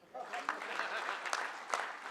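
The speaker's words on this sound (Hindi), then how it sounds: "ताली बजाओ ढंग से।" An audience at a memorial lecture claps on request, a brief, quiet patter of applause with some sharper individual claps, heard at a distance.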